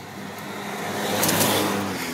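A car passes on a road near a cyclist, its engine and tire roar swelling to a peak midway and then easing off, fairly loud and with no talking.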